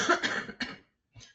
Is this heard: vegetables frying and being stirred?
no